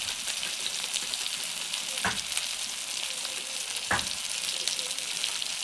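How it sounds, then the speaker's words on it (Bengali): Spices frying in oil for a Bengali mutton curry, a steady broad sizzle throughout with two brief louder scrapes of stirring; no voices. "তো এরপরে মশলাটিকে কিছুক্ষণ ভেজে নেবো যাতে মশলার কাঁচা গন্ধটি চলে যায় আর মশলার থেকে তেল বেরিয়ে যায়"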